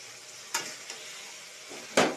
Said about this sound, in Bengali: এখন দিয়ে দিব মাছের মাথাগুলি আমি ভালো করে কষিয়ে নিব।